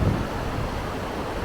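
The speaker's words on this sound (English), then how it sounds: "But it's getting very windy and very cold and very wet." Cold, wet wind gusts steadily against the microphone at Takakkaw Falls, a loud, continuous rushing roar with heavy low rumble and no voices.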